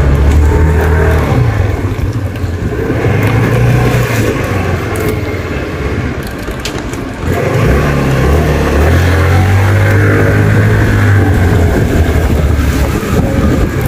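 A Bitter 50 scooter's small engine, which has a starting fault, revs loudly and close, with wavering tonal engine drone rising and falling, a brief dip midway, then climbing again under windy rushing noise.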